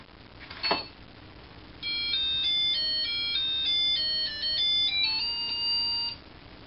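An old point-of-sale terminal beeps out a thin electronic melody of steady pure tones, stepping through a simple tune for about four seconds. A brief click comes first, with a faint background hiss.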